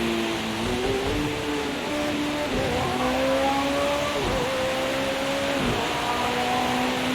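A race car engine in Project CARS 2 revs hard around the wet Nürburgring, its pitch climbing and dropping sharply through repeated gear shifts, loud and continuous with a faint hiss of spray beneath.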